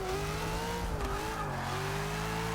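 A Mustang Cobra engine in Forza Motorsport 6 drones steadily at high revs, its pitch dipping briefly as if shifting gears, then holding a loud sustained roar with no talking.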